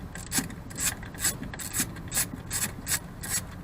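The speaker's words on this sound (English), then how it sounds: "socket to loosen up these 4 bolts here." Rapid ratchet clicking in repeated bursts as a socket loosens four bolts on a GMC Sierra, about eight quick spurts of metallic ticking, close and fairly loud with no talking.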